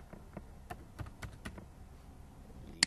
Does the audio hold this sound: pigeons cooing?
no